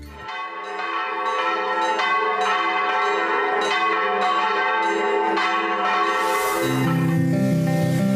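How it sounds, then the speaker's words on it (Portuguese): One of the largest church bells in Brazil, at the Nossa Senhora do Carmo church in Ouro Preto, rings loud and close with long, rich overtones. Repeated strikes blend into a sustained ringing hum, and a deeper tone joins near the end. "na igreja de Nossa Senhora do Carmo, onde temos um dos maiores sinos do Brasil"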